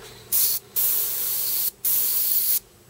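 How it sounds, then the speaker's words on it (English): A Badger Sotar 20/20 paint spray gun, opened to a wider pattern, hisses in three long, loud bursts separated by brief pauses, close to the microphone. "open this up a bit, see how the wider pattern will spray"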